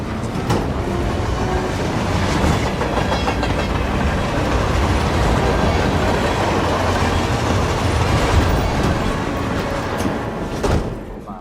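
A train in the video game Hitman: World of Assassination rolls steadily along the rails with a dense rumbling roar and faint rhythmic clacking, loud and continuous throughout.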